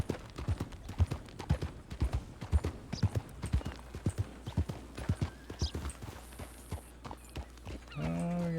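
Two horses walk at an unhurried pace in a Western roleplay video game, their hooves clip-clopping steadily and fairly close, with a short horse snort or whinny near the end.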